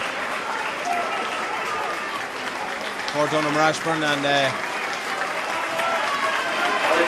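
Crowd noise rises at a Gaelic football final, the 2022 Meath GAA match between Donaghmore Ashbourne and Seneschalstown, as a player is substituted off, with cheers and clapping beneath a commentator's steady talk.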